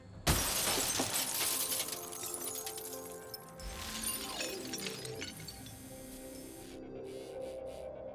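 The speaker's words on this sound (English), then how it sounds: "the robot has been fitted with a small ramrod designed to break through glass" A small ramrod fitted to a bomb-disposal robot smashes through a car window with a sharp, loud crash, followed by crackling, tinkling glass fragments and lingering mechanical rattling as the pieces settle.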